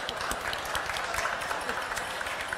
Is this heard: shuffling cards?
no